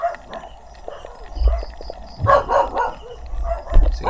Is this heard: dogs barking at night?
yes